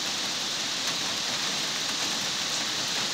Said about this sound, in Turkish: Şimdi bu yağmurlu havada